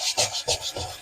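A stiff brush scrubs a wet car interior part after it is rinsed with water, giving repeated rasping strokes in a steady back-and-forth rhythm, close and fairly loud with no talk.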